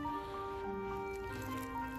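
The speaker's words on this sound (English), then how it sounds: "Add some water, because they need that." Water is poured from above onto garden soil covering freshly planted seeds, a continuous close splashing trickle with a faint tonal hum underneath.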